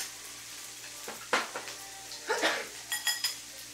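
Pork belly and beef frying on a grill with a steady low sizzle, broken by several clinks and scrapes of utensils against the pan, no talk.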